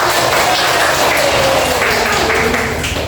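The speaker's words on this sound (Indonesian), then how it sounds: "Tepuk tangan." Steady, dense applause fills a classroom as students clap together for a classmate's answer, loud and close from start to finish with no pause.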